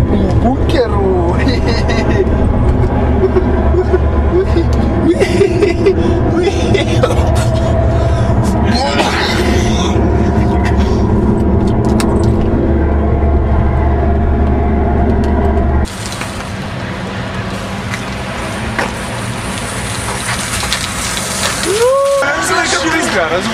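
Inside a moving bus on a school excursion in Italy, a loud steady engine and road rumble drones low beneath lively nearby voices, then the drone drops and softens partway through.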